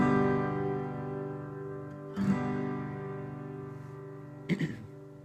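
A strummed acoustic guitar chord rings out from a beginner's lesson, followed by two more strums, each one decaying softly and clearly with no talking over it.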